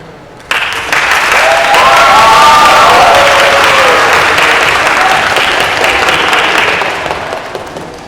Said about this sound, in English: Please give a round of applause to Innovata.